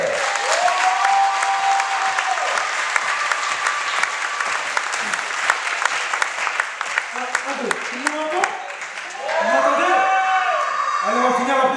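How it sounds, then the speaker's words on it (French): Loud, sustained applause from an audience at a hotel staff presentation, with cheers and whoops rising over the clapping and voices speaking through it before another swell near the end. "eh bien aussi, ils méritent un tonnerre d'applaudissements"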